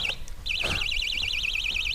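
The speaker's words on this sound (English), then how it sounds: "What a bite alarm." A fishing rod bite alarm at a reservoir sounds a steady warbling electronic tone that wavers up and down rapidly, briefly cut at the start, then continuous and loud, with a faint clunk in the background.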